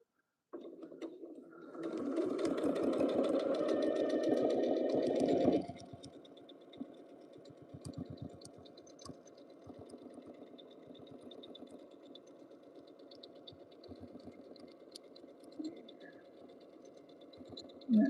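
A sewing machine stitches a quilt up to its inner border, running in a loud steady burst for a few seconds, then dropping to slower, quieter intermittent stitching with mechanical ticks.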